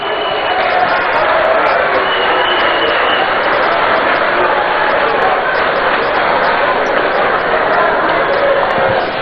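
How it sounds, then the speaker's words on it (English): Sustained applause from a large audience in a great hall at a Ghanaian labour meeting, a dense, steady wash of clapping and crowd noise lasting throughout at full volume. "Another round of applause for Chairman Arthur"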